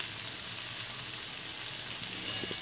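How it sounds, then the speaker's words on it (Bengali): Spiced poppy seed paste stir-frying in a pan for a Bengali posto dish, a steady close sizzle and hiss throughout with faint scraping, ending in a brief knock. "অল্প একটু জল দেবো, দিয়ে ভালো করে কষে নেবো।"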